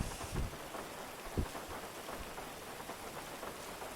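Steady rain falling outdoors, a continuous broadband hiss with a few louder low thumps near the start, moderately faint and without any voices.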